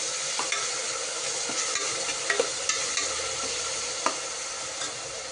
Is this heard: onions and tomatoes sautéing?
yes